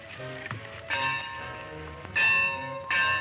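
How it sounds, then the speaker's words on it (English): A school bell rings in repeated bright metallic strikes, each leaving a sustained ringing tone that decays slowly, with four or so clear hits spaced unevenly over a few seconds. "There goes the bell."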